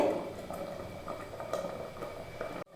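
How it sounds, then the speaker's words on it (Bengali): Sweet rice payesh simmering under a lid on a low flame, soft bubbling and gentle plopping ticks repeating steadily, ending with a brief clatter. "আবারও ঢাকনা দিয়ে লো ফ্লেমে পাঁচ মিনিট ফুটিয়ে নেব"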